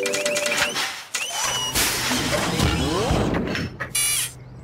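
Rocket works a sewing machine to stitch a ball gown dress, its mechanical whirring and clattering bursts coming through a busy cartoon music backdrop with short pauses between runs.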